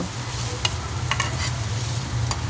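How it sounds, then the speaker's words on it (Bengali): Dried red chillies and onion frying in a little oil in a wok: a steady close sizzle with a few soft scrapes and stirring taps, no voices. "এখন একটা কড়াইতে সামান্য তেল দেব ছোটো শুকনো মরিচ এবং পেঁয়াজ ভেজে নেব"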